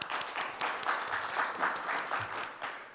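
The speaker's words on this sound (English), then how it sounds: "Please welcome Mr. Harrison Fell with a big round of applause" Conference attendees applaud to welcome a speaker at an international modelling conference session. Moderate, even clapping from a modest crowd fills the short stretch, slightly distant and without any talking.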